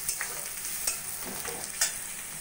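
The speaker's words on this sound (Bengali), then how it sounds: "ভালো করে মশলাটা কষিয়ে নেব।" Spice masala being sautéed with fried onions in a pan for a spicy bitter gourd dish, giving a steady soft sizzle with a few sharp scraping stirs at intervals, close and with no talking.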